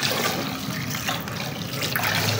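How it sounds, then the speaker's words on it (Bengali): Lentils (dal) being rinsed in water in a home kitchen, a steady close sloshing and trickling wash with no pauses. "ডাল বের করে নিয়েছি, এখন একটু ধুয়ে নেব"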